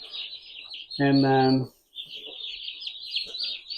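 Day-old white turkey poults give steady high-pitched peeping chirps close by, continuing before and after a brief spoken word.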